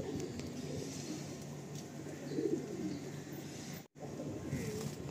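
Soft, low cooing of an Andhra pigeon repeats close by in a pigeon loft over a quiet hum of background noise, with a brief dropout near the end.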